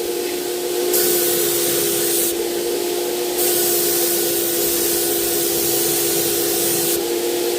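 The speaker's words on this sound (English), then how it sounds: "it's a little bit too much overspray for me" Paint sprayer hisses in loud bursts while spraying primer on furniture, close up over a steady motor whine, with brief pauses between passes and no talking.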